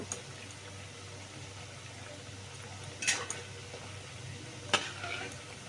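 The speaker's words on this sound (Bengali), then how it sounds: "সুন্দর করে এপিট উপিট করে ভেজে নেব" Lentil fritters (dal bora) fry in hot oil with a steady, soft sizzle, broken by two sharp clinking scrapes as they are flipped over. No one speaks.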